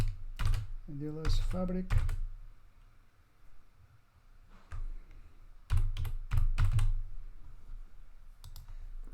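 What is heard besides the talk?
typing on computer keyboard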